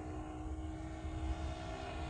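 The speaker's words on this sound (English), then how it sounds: "Right off the bat, it's a very docile airplane." A Great Planes JU-87 Stuka RC model airplane on its maiden flight gives a faint, steady engine and propeller drone with a constant whining tone, heard from a distance and unbroken throughout.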